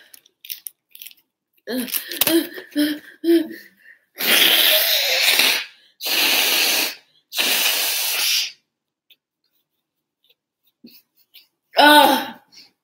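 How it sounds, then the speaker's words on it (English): Three loud, broad bursts of nose blowing into a tissue, each about a second long, after some rustling and faint voice; another short snort follows near the end. "I need to blow my nose"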